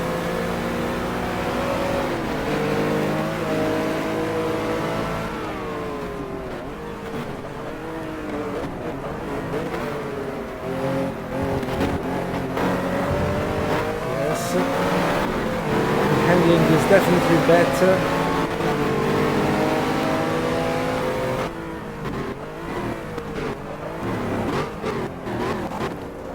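Vintage racing car engines, including a Ford Capri, drone and rev in a GT Legends race, a continuous mid-pitched roar rising and falling with gear changes, while someone talks over it.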